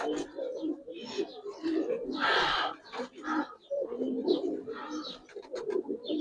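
Silver giribaz and coloured pigeons coo up close in repeated soft throaty bursts, while people talk nearby.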